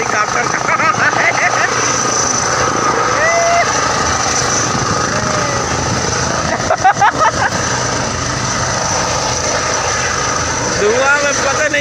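A helicopter lands through smoke at a chief minister's event, its steady engine and rotor drone running continuously at moderate distance, with crowd noise and occasional voices in the background.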